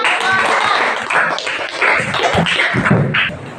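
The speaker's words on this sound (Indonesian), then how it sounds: "Oke nak, tepuk tangan." Students in a classroom clap together in a loose, dense burst of close, fairly loud hand claps, with voices mixed in among the claps.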